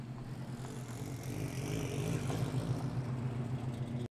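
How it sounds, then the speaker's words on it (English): Cars roll past at a festival, a steady whirring engine and tire drone that swells slightly in the middle and then cuts off sharply. "Just took some footage of all these cars"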